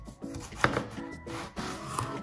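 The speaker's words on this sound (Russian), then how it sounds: "Для мусаки нам первое, что понадобится, это баклажан. Нарежем вот такими слайсами." A kitchen knife cutting an eggplant into long thin slices on a board, a few distinct firm chops at an uneven pace, close up with no talking.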